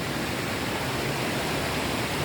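A steady, dense rush of falling water from Pha Tat waterfall in Thong Pha Phum, Kanchanaburi, Thailand, fills the whole clip, constant and loud with no other sounds.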